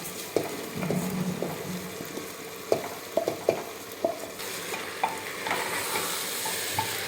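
Rice stir-fried in oil with ground whole spices for a plain pulao: a soft background sizzle broken by a series of sharp spoon scrapes and taps against the pan, irregular and close, with no talking.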